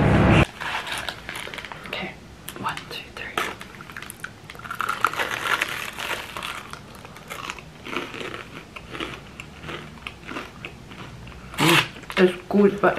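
Close crunchy chewing of a sweet snack, with irregular crisp bites and mouth noises, occasional louder crunches near the end, heard alongside people talking.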